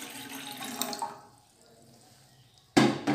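Water runs and splashes from a tap into a pot for heating two cups on the stove, a steady close pour that fades off, then a sudden loud burst of rushing water near the end.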